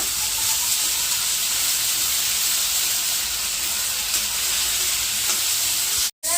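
Food fries in a pan with turmeric and salt while being stirred, producing a loud, continuous close-up sizzle and hiss that cuts out sharply for a moment near the end. No one speaks.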